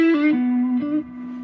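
An electric guitar played through a distortion pedal, one sustained, buzzing note with a rich harmonic edge that shifts slightly in pitch and then rings on at lower volume, heard alone.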